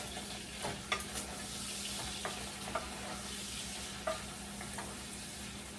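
Half a pound of bacon fries in a little soup pot, giving a soft continuous sizzle with a few sharp pops and utensil scrapes, fairly quiet and close, with no voices.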